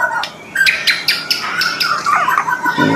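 Birds in a bird shop, among them magpie robins, give shrill, overlapping squawks and chirps, loud and close, in quick bursts over a constant background hiss.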